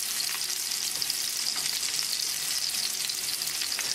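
Salmon frying in a pan as butter melts for a lemon butter sauce, a dense, even sizzle with faint stirring taps close to the pan, and no talking.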